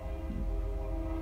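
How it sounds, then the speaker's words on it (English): A train horn honking outside, a sustained tonal blare with a low rumble beneath it, heard at a distance without any talk over it. "sorry for the train honking out there"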